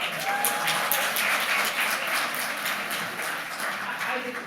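An audience at a live mathemagic stage performance claps for a volunteer called up from the crowd, a full round of applause with distinct clap transients, sustained and fairly close, with some faint voices mixed in.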